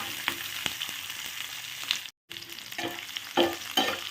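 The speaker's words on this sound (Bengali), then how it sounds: "দিয়ে এটাকে জাস্ট একটু হালকা হাতে ভাজা করে দিচ্ছি।" Capsicum frying in a pan with oil, a soft continuous sizzle with occasional spatula scrapes and taps, close up, with a brief cut to silence midway.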